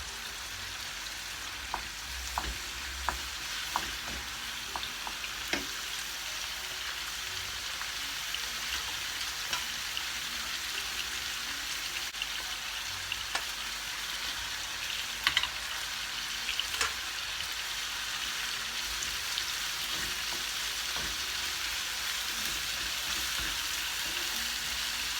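Mushrooms and vegetables fry over high heat in a pan, giving a steady, busy sizzle with occasional sharper pops and stirring clicks, close and continuous with no voices.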